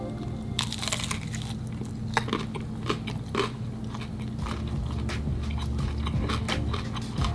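Someone bites into a $3 deli potato pancake and chews it close to the mic, with crisp crunches and irregular moist chewing and no talk.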